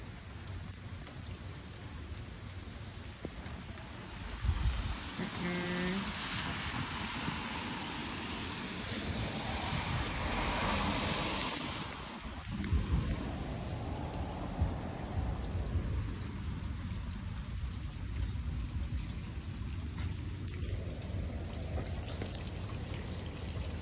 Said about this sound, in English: it's a real rainy day today